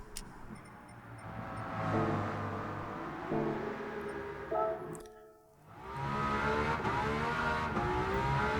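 A V12 car with a sports exhaust revs up repeatedly, with rising and falling engine tone, a sharp drop in the middle, then a strong climb back to a loud, sustained rev.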